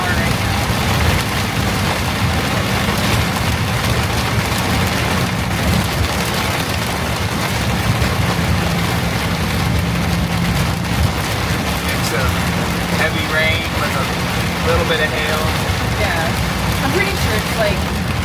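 Heavy rain pounding on a semi-truck while driving slowly on the road, a dense continuous roar of drops over road and engine noise, with voices talking faintly underneath.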